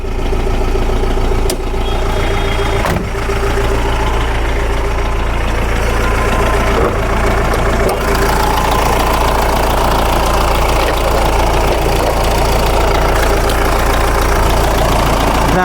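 A loud, steady vehicle engine with about 172,000 on the odometer idles close up with a rough, knocking rumble that continues unbroken, with no voices.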